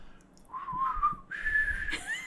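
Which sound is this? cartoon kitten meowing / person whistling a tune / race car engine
person whistling a tune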